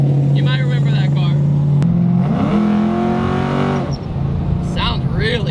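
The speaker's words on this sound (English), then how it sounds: "This one's the 3-valve motor." A Ford Mustang with a 3-valve V8, built by someone, rumbles at a steady idle, then revs up and holds higher before settling back, with a voice talking over it.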